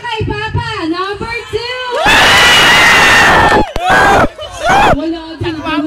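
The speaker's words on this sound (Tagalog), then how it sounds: "Puro sigaw." A crowd of children at a Christmas party bursts into loud, sustained shouting and cheering, with an adult voice speaking before and after the outburst.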